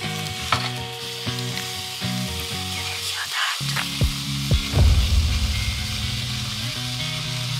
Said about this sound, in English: And I've peeled off the garlics and they're roasting too.